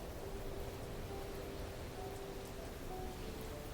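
Steady rain falls in a continuous broadband hiss, even and unbroken, with a faint tonal hum running underneath and no voices.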